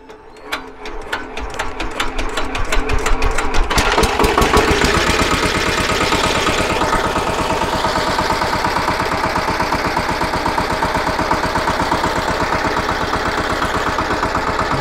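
A Kentavr rotary tiller's small petrol engine is pulled into life with a few rapid sputtering turns, then settles into a loud, steady, close mechanical idle that runs on alone.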